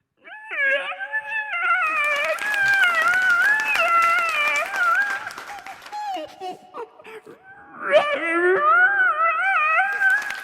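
Someone imitates a tied-up dog howling and whimpering, a long plaintive wavering cry that dips, then rises again, loud and close.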